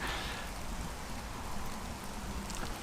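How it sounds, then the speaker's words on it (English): Heavy rain falling during a winter hike on the West Highland Way, a dense, steady hiss of drops close by with no talk over it. "the heavens have opened up, so it's really starting to rain a lot"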